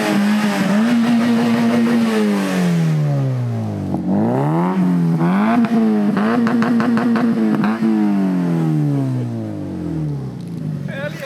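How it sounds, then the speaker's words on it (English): A Honda S2000 engine revs hard repeatedly, climbing and dropping in pitch through several loud sweeps, sustained and close, with a fading drop to idle at the end. "Give her the beans, Martin."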